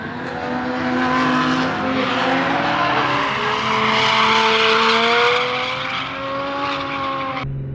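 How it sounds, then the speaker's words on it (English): A Mazda RX-7 runs a grip lap on the old FD Japan layout of the Nishi circuit at Ebisu, its engine droning loudly as it sweeps through turns, with tires squealing and pitch rising and falling steadily until an abrupt cut. "We're gonna follow the RX-7 as they do a grip lap around."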